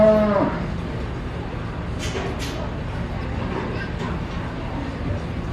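A heifer at a county fair beef show lets out a short, loud moo at the start, followed by steady indoor arena murmur and background noise.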